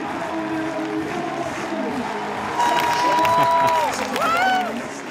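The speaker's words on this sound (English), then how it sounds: "Cutting between the cheering crowd and Adam Ondra as he departs" A large indoor climbing crowd at a men's bouldering final in Prague cheers and applauds for climber Adam Ondra, a steady roar that swells louder midway, with whistles and voices rising above it.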